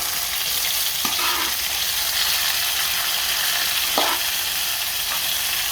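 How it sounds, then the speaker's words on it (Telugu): Chopped onions hit hot oil in a pan with cloves for a dhaba-style chicken masala, giving a steady, close broadband sizzle throughout with a few brief stirring scrapes. "ఇప్పుడు ఉల్లిపాయలు వేసేద్దాం."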